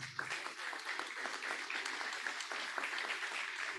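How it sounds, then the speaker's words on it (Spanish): Audience applause at a maize campaign and trials review presentation, quiet but continuous clapping from a moderate crowd with scattered sharp individual claps, steady from start to finish. "Así que yo pido un aplauso para Vivi"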